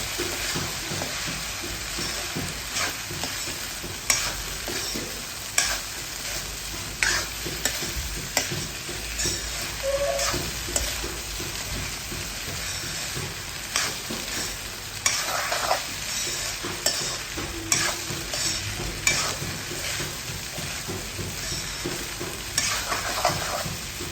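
Paneer fried rice fries in a pan while being stirred and mixed, giving a steady close sizzle with repeated scraping strokes throughout.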